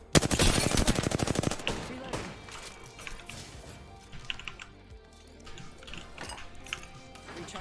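Gunfire in the Apex Legends video game: a rapid burst of fast automatic shots up front, then scattered shots and impacts with clicking, while a player talks over it.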